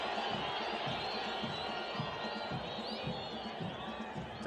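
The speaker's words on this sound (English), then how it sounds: "Crowd not happy." Disgruntled fans at a Concacaf Nations League football match between El Salvador and Trinidad & Tobago keep up a steady, distant crowd roar of whistles and jeers, low and continuous with no sharp peaks.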